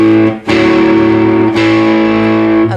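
A guitar with distorted, effects-heavy tone plays the CC Rider riff: three loud plucked attacks ring out in a row, each sustaining thickly into the next.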